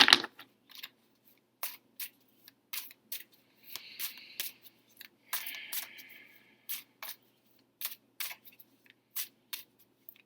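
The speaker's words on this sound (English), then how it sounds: "I'm going to be shuffling the cards" Tarot cards being shuffled close up, a long series of crisp snapping riffles and soft slides in irregular clusters, with brief rustling flurries between the sharper clicks.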